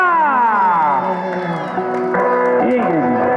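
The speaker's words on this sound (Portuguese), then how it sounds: "palmas pra galera!" A crowd at a surprise birthday celebration for a wife in Guaianazes cheers and whoops loudly, with shouting voices and some clapping blended into a dense, echoing roar that holds steady throughout.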